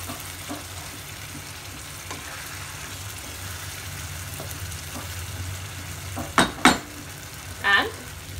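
Prawn curry with ghee stirred gently in a pan, a low soft sizzle under quiet scraping, followed by a few sharp metallic clinks of a spoon against the pan near the end, no voices.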